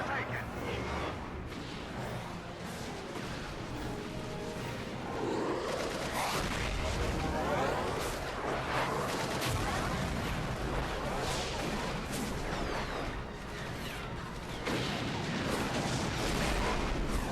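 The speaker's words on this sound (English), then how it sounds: "It really does remind me of a Star Wars battle." Star Wars-style space battle effects from Final Fantasy XII The Zodiac Age: a dense, continuous barrage of booming blasts, laser-like shots and rumbling explosions fills the scene, with people talking over the din.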